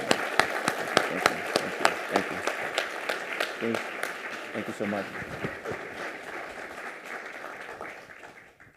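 Audience applause for the mayor at a State of the City event, sharp claps at first that thin out and fade, while a voice briefly gives thanks.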